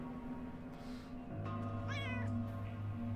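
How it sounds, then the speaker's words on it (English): A cat meowing in the UnderRail game gives a single clear, drawn-out meow midway through, over a steady low hum of game ambience. "the cat is the only thing making noise around here."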